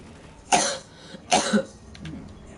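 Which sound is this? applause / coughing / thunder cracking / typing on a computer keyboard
coughing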